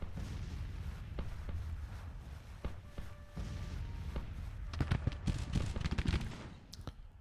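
Civil War musket volleys and artillery from a Grand Tactician battle boom in scattered, uneven bursts, thickening into a dense crackling fusillade near the end over a continuous low rumble.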